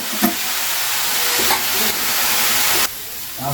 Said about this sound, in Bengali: এইভাবে নাড়িয়ে নিচ্ছি খুব ভালো করে